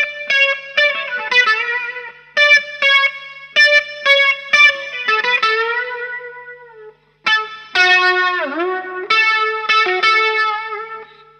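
Electric guitar plays a solo through distortion, chorus and effects, with clipped repeated phrases giving way to sustained bent notes with wide vibrato, loud and alone.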